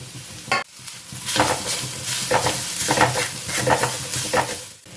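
Grated coconut roasts in a pan for a Mangalore clam and rice ball curry, stirred with repeated scraping strokes over a soft continuous sizzle, close and loud, with no talking.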